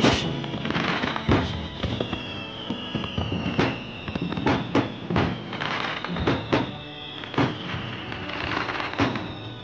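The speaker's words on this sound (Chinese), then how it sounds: "快，放烟花，快！" Fireworks set off in a festive night scene, a dense run of loud sharp bangs and crackling bursts with whistling rising streaks, repeated irregularly throughout and standing alone without voices.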